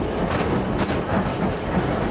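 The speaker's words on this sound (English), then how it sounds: "This train was built here in Derby in 1956" A British train built in Derby in 1956 rolls along with a steady broadband rumble and faint rhythmic wheel clatter, continuous and fairly close, with no voices.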